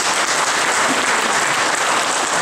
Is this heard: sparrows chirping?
no